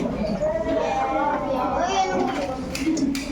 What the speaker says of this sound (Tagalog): Ang ingay-ingay niyo, nagkakagulo pa niyo.